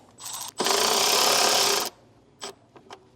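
A power tool loosens a bolt on a seatbelt assembly ground in a 2022 Toyota Tundra, giving one steady high whirring burst about a second long, followed by a few short buzzy blips.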